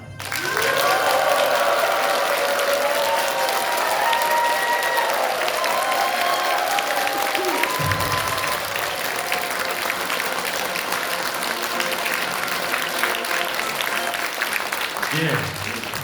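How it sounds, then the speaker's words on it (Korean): An audience at a political party launch event applauds and cheers, a thick sustained wall of clapping with shouts and whistles early on, loud and steady throughout, with a brief voice near the end. "여러분들의 박수와 함성을 듣고 나니까 그 에너지가 느껴져서 너무너무 좋습니다"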